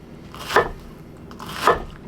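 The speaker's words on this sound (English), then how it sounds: "I'm going to try to cut this up pretty thin this way" Knife cutting cabbage thin on a board for an Irish smoked chicken stew, two crisp, close slicing chops about a second apart.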